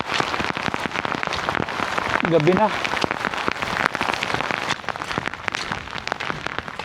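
Steady rain falling on outdoor surfaces, a dense continuous patter that swells slightly in strength, with a person speaking briefly over it.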